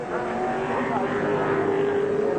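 Touring race cars from the 1996 ATCC round at Symmons Plains, including a smoking Shell Falcon, roar steadily down the pit straight in a continuous loud engine drone with commentary over it.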